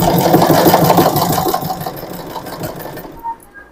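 Singer SM024 sewing machine stitching, a close, rapid mechanical whirring and clatter that slows and fades to quiet near the end.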